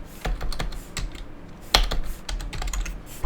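Fingers type on a computer keyboard in quick, uneven bursts of close, crisp key clicks with brief pauses between them, and no one talks.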